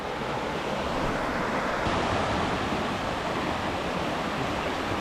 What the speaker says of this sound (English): Alright, just following the creek up.